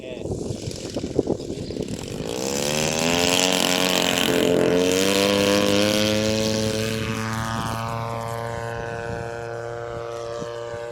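A 500cc unmanned model aircraft flying a traffic pattern passes overhead, its engine drone rising and falling steadily in pitch as it approaches and moves away, loud throughout the pass.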